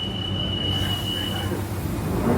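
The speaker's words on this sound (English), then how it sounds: "This is a Central Line train to Epping." A London Underground Central Line train to Epping gives a loud, steady low rumble with a thin high whine from the carriage, heard close up from inside.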